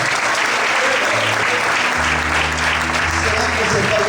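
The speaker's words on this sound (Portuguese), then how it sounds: "Será que você pode aplaudir o Senhor por essa palavra?" A church congregation applauds in a dense, steady roar of clapping that fills the room throughout, loud and continuous, with low voices and tones faintly underneath.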